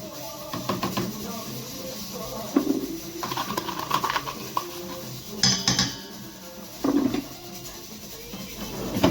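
Fine semolina with a half teaspoon of baking powder tipped into a bowl, then spoon clinks and scrapes against the bowl at an uneven pace, close by and without any voice.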